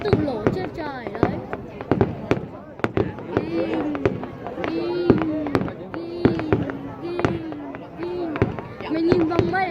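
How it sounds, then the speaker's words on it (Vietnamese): Fireworks at the Phật Tích display burst repeatedly overhead, sharp cracks and booms arriving in a steady irregular barrage close by, with people talking and exclaiming throughout. "Có lúc không còn cái pháo là bắn lên thế mà nó tự nổ trên trời đấy."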